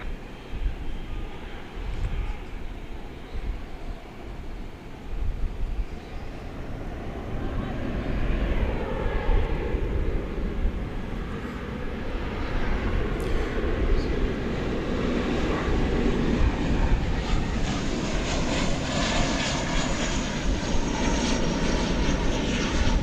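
A Boeing 777 bound for London at DFW Airport, its jet engine roar building steadily and staying loud and continuous at fairly close range, with occasional faint talk.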